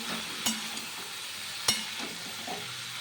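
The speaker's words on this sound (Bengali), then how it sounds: "ঝিঙেগুলো দিয়ে আমি নাড়াচাড়া করে দিচ্ছি" Ridge gourd is stirred in a frying pan, a low steady sizzle broken by two sharp spatula knocks against the pan, close by with no voices.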